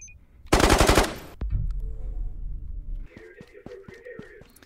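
MP40 submachine gun in the video game Ghosts of Tabor, one loud close burst of rapid automatic fire lasting under a second, then rumbling and a sequence of metallic mechanical clicks and clanks.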